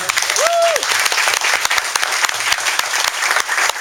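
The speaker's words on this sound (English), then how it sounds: "We've got a round of applause for Chef Marcel." An audience at a cooking demonstration applauds Chef Marcel after a prime rib and horseradish foam dish, a steady burst of close clapping with a single whistle rising early and faint voices mixed in.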